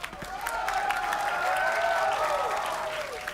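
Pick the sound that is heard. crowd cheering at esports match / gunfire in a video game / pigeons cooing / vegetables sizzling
crowd cheering at esports match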